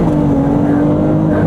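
A new turbocharged convertible, roof up with the middle window dropped, holds a steady engine drone right after a downshift, a continuous close rumble with a low tonal hum that builds slightly over about a second and a half.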